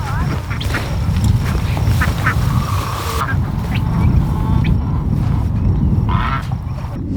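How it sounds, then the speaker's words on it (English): Ducks on a homestead quack repeatedly against a steady, loud background of rushing noise, their calls scattered and fairly close. "so you see these ducks"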